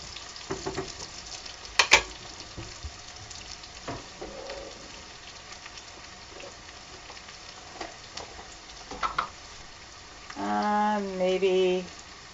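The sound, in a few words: vegetables with white eggplant, garlic, onion sizzling in stir-fry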